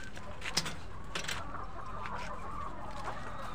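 Chickens on a poultry farm cluck softly and continuously, a close flock murmuring with a few sharper clucks over a low steady farm background.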